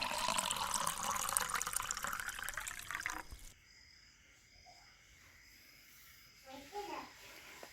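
Water is poured into gram flour dough for alu vadi and kneaded. A brief, fairly quiet splashing pour is followed by softer mixing sounds, with voices present.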